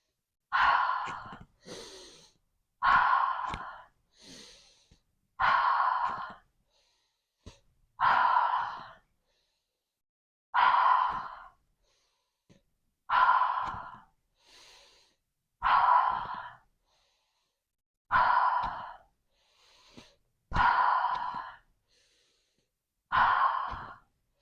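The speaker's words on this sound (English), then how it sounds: "And inhale." Slow, regular breaths during a chakra pranayama practice, about a dozen deep airy inhale-exhale cycles heard close and clear, separated by brief silences, with no talking.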